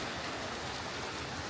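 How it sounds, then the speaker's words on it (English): Steady rain pouring outside in Florida, a dense, even hiss of falling water with no breaks and no voices. "here comes the rain, right as I step inside"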